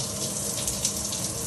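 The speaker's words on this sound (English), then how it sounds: "which turns the shower head on." A house shower head running after its dial is turned, water spraying in a steady close hiss and patter that continues without break for a moment, no voices.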